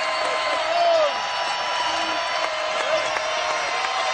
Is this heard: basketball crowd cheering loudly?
yes